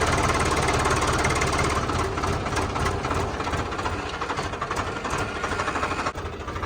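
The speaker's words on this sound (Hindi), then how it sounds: "ये ट्रैक्टर ना थोड़ा सा बड़ा है, मतलब कि इस खेत के हिसाब से बड़ा है" A large tractor ploughing a small farm field: a loud, steady diesel engine drone with a rapid rhythmic chug that runs continuously and close by, with no voices.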